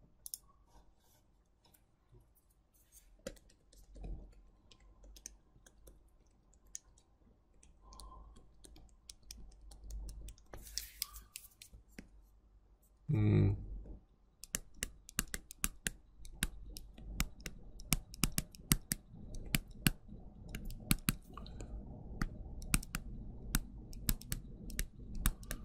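Typing and mouse clicking on a computer during an R programming lesson, sparse clicks at first, then dense bursts of keystrokes with one louder thump midway, close and alone without talk.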